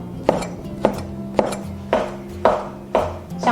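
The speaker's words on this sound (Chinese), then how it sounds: "改刀切丁儿。" Shiitake mushrooms are diced with a knife on a board, six firm chops at an even, unhurried rhythm, each a close woody knock with a brief ring, over a low hum.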